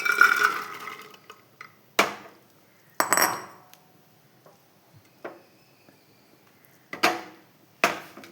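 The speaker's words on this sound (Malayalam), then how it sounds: "കുക്കറിലേക്ക് ഞാനിത് എടുത്തിടുന്നുണ്ട്." Soaked kidney beans being put into a pressure cooker: a few sharp metallic clinks and clatters of spoon against cooker, spaced out over quiet gaps, close and moderately loud, with no talking.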